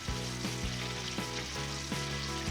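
Pickle-brined chicken drumsticks fry in hot oil with a steady, close sizzle, marked by a few soft bumps and stirs, with no talking.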